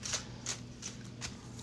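Tarot cards being shuffled: four quick, crisp riffling bursts spaced evenly about a third of a second apart, close and faint, with no talking.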